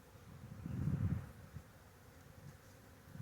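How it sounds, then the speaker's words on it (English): Honey bees buzz around a hive during queen-rearing setup, a low droning hum that swells briefly near the start and then continues faintly and close. "Those bees will start going in right away."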